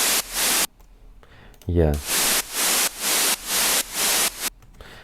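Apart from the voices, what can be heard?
white noise from synthesizer noise oscillator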